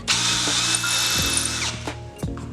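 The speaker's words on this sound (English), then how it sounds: "you're just going to drill down until you make a scratch in your acrylic" A power drill bores into an acrylic sheet while shearing a tufted rug, its motor whining steadily for most of the clip before cutting out, with ratcheting clicks and brief bumps near and fairly loud.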